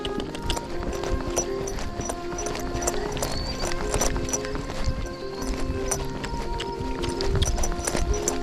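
Horse hooves cantering on an evening training ride ahead of an endurance event, a steady rhythmic clip-clop close by, continuous and moderately loud, with the horse's breathing and faint tack noise.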